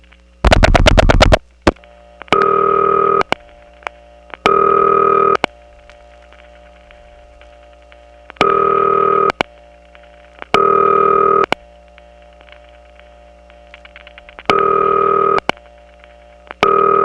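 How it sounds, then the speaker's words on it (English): Telephone ringback on an old 1979 Atlanta switching office line sounds in repeating bursts, with a faint dial tone and reorder signal humming in the background between rings, clear and steady. "in between ring bursts, the power supply that's on the line isn't silent at all. It actually has dial tone and reorder in the background."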